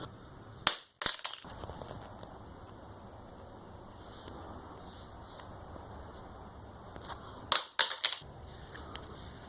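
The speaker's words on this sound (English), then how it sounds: "How about dropping it like that?" A Samsung Galaxy S7 phone is dropped onto a hard surface, making two sharp clattering impacts near the start and another pair of cracks near the end, with quiet room noise between them.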